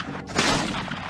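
A single loud blast from a period firearm, a sudden broad burst that hangs briefly and rolls off into a rough, sustained roar with no speech.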